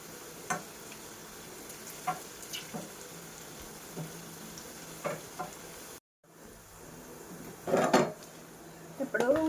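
Cabbage 65 deep frying in oil over medium heat: a low, steady bubbling sizzle punctuated by clinks and scrapes of a ladle against the pan, with a brief cut in the middle and louder stirring near the end.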